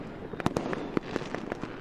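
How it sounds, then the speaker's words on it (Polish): Fireworks set off by a neighbour on New Year's Eve: a rapid string of sharp crackling pops over under two seconds, moderately distant, with no talk. "teraz fajberkę odpalił"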